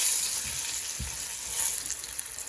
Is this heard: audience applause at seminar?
no